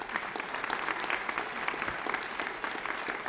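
Lawmakers and guests applaud during the 2025 New Mexico State of the State address in the legislative chamber, a continuous dense roomful of clapping, moderately distant and steady with no talking over it.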